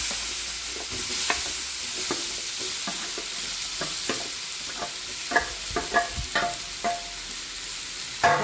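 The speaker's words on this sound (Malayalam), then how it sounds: "ചൂടായ നെയ്യിലേക്ക് നമുക്ക് നമ്മുടെ നേന്ത്രപ്പഴം ഇട്ട് കൊടുക്കാം" Ripe nendran plantain fries in hot ghee, a constant bright sizzle with regular spatula clicks and scrapes that grow busier toward the end, near and clear without speech.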